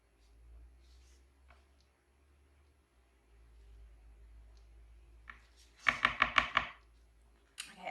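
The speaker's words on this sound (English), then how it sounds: "And hand stir the sodium lactate in." Soap batter with sodium lactate being stirred by hand in a container, a quiet scraping and rustling that turns into a quick burst of sharp clicking taps near the end.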